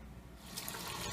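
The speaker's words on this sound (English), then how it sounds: "Then we're going to rinse them one more time in just plain old water." Tap water runs and splashes as morel mushrooms are rinsed in plain water, a close, steady rush that swells over about a second.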